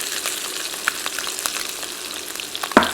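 Garlic, ginger, lemongrass and jalapenos sizzle in oil in a Dutch oven, a busy crackling fry with scattered pops and a sharp metallic clink of a utensil near the end, no talk.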